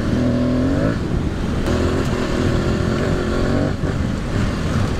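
An Aprilia Tuareg 660 motorcycle engine while riding a trail in the Corsican forest, loud and close, rising in pitch under acceleration, dipping briefly, then pulling again, with steady wind rush throughout.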